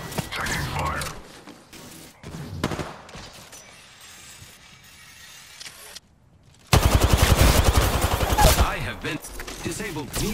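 Automatic gunfire in a video game squad firefight, with bursts of rapid shots early on, then a long dense volley near the end, mixed with game sounds and a voice talking.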